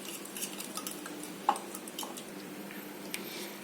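A spoon stirs paneer tikka marinade batter in a bowl, giving soft, quiet wet squishes with light clinks of the spoon against the bowl and one sharper tap in the middle.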